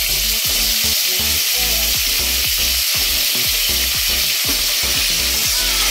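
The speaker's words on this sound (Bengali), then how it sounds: "তো চলো এগুলো দিয়ে একটুখানি ভালো করে নাড়াচাড়া দিয়ে ভাজা করে নিয়ে আসছি" Vegetables with Malabar spinach, eggplant and pumpkin sizzle loudly in hot oil with prawns while being stirred, giving a steady close frying hiss broken by regular scraping strokes of the spoon in the pan.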